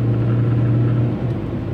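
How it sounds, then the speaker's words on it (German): A truck climbs a motorway on-ramp with a steady, loud, low engine rumble and droning hum, continuous and close throughout, easing slightly near the end. "weil jetzt gerade ein LKW rauffahrt"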